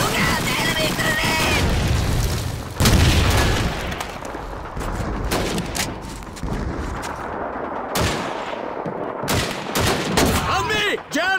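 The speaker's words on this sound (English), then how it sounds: "Look out, enemy grenade!" Grenade blast and rapid gunfire in a Call of Duty 2 Russian campaign battle, with a heavy low boom near the start and continuous crackling rifle and machine-gun shots throughout, under shouted voices.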